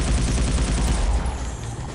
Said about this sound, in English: I will kill with my assault gun